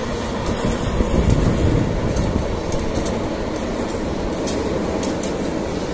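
The Argo Parahyangan train in Bandung rumbles past continuously at fairly close range, a broad steady roar of wheels on rails with faint clicking over the top, and no talk.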